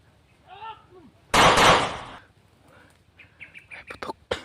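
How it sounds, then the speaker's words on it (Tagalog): A single sharp gunshot cracks outdoors with a short fading tail, fairly close and loud. Bird chirps come just before it, and faint voices and scattered sounds follow afterward. "May putok tol."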